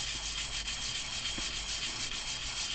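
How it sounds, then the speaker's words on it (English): Steady, close abrasive rubbing of sandpaper worked by hand in a circular pattern against a model panel, a continuous gritty scratch with no pauses or voices. "you'll notice that I'm sanding in a circular pattern."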